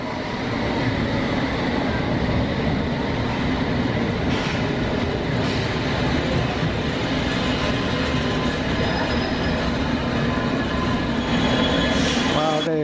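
Steady rumble and rolling clatter of an underground train at Ealing Broadway station, London, with brief metallic wheel squeals and a rising screech near the end.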